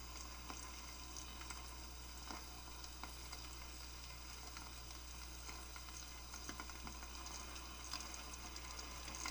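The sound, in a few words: eggs frying on a small electric skillet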